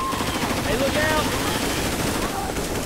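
Rapid bursts of gunfire from the zombie shooter game Left 4 Dead 2, steady and loud throughout, with players chattering over the shooting.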